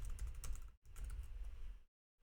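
Rapid keystrokes on a computer keyboard while coding reactive model-driven forms in Angular, steady clattering typing close to the mic, a brief pause, another run of taps, then silence.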